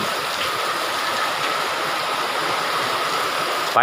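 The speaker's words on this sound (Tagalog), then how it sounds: "Malakas na naman ang ulan." Heavy rain from a low-pressure system pours down in a steady, dense hiss that fills the whole stretch without pause.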